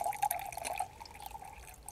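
Lukewarm water trickles and splashes softly into a container holding a teaspoon of borax, a quiet thin pouring sound that tapers off after a moment.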